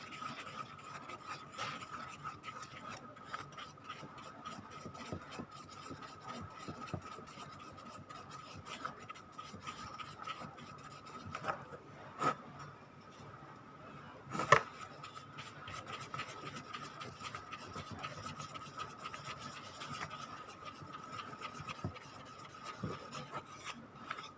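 Mould material for a cone mould is mixed vigorously by hand, giving a steady, close, rasping scrape and rub that repeats in quick strokes throughout, with a few sharper knocks.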